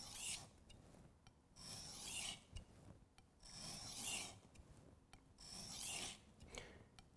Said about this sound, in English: I'm gonna just make a bunch of passes on one side of this knife